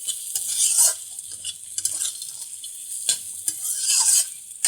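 Jackfruit seeds stirred through hot oil in a pan while frying, giving a bright continuous sizzle with several scraping strokes of the spoon, close up and with no voices.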